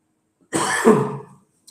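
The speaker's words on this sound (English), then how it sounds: "I'm having a little bit of cough" A single harsh cough from a man, close and fairly loud, lasting under a second, followed by quiet.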